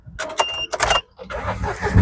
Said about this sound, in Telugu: సింగిల్ సెల్ఫ్లో వెహికల్ అయితే స్టార్ట్ అయిపోతుందండి.